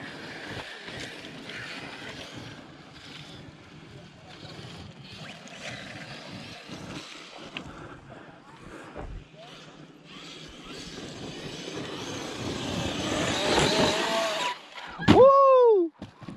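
Two RC cars, a Team Corally Python on 4S and a Traxxas X-Maxx on 8S, bash over rocky ground outdoors. Steady motor and tire noise builds, then ends in a loud burst with rising and falling electric motor whine.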